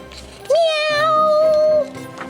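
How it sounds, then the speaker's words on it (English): A kitten gives a single long, clear meow lasting over a second, loud and close, with faint background sound before and after. "I wonder what that poor kitten wants, Cat."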